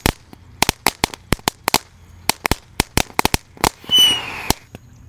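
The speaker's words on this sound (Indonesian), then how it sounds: "Di sini ada mercon Tank." Tank firecrackers go off in a rapid, irregular string of sharp, loud cracks and pops, ending in a brief hissing, fizzing burst followed by a few last bangs.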